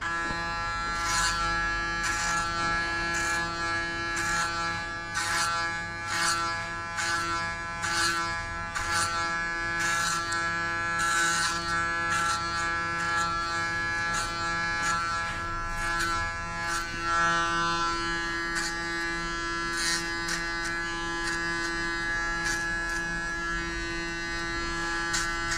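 Electric hair clippers buzz steadily while shaving off long hair for a buzz cut, with a close, continuous motor drone broken by repeated short pulses as the blades pass through the hair, and no talking.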